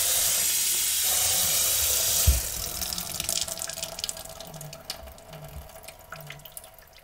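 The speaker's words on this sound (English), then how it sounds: "now we have to fill the glass... the cup." A kitchen tap runs water into a cup until it is full, a steady broadband rush with a sharp splash as the stream first hits, then a gurgling, rising fill that fades toward the end.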